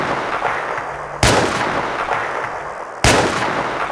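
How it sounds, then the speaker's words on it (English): Two loud, deep sniper rifle gunshots in a Unity 3D first-person shooter game, each a sharp blast with a long booming tail, the second about two seconds after the first. "The sniper rifle has a new sound,"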